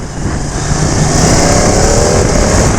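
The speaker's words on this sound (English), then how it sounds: "I've done a couple hard accelerations here" A 2019 Ducati Panigale 959 sport bike accelerates hard, a loud, sustained engine roar with wind rush heard from the rider's position, steady and close without talking.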